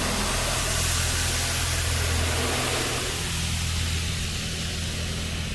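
High-pressure rinse sprayers blast water over a car inside an automated car wash, a loud continuous hiss and roar with a low engine hum beneath, unbroken throughout and with no talking.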